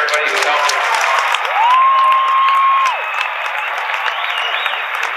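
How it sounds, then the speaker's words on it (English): Graduation audience in a large hall applauding the custodians and maintenance staff, a broad steady wash of clapping that carries on throughout, while a sustained electronic whistle or feedback tone rises briefly above it midway. "really give a big round of applause to the custodians"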